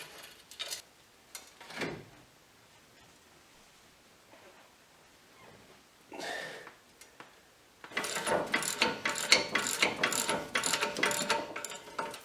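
Socket wrench lengthened with a 3/4-inch black pipe breaks strut bolts loose on a Chevy Traverse-type front suspension, giving a few sparse ratcheting clicks early on, then a dense, loud run of rapid ratchet-pawl clicking toward the end.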